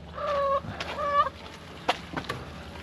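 Chickens cluck in a farm barn, a few drawn-out harmonic calls followed by short sharp clucks, fairly close and clear with no talking.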